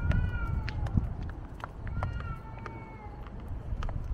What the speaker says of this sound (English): Why are the cats fighting?